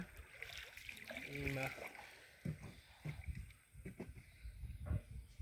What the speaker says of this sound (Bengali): আমাদের নৌকা ইউটার্ন নিচ্ছে